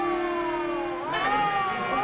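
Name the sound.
siren, probably an ambulance or police car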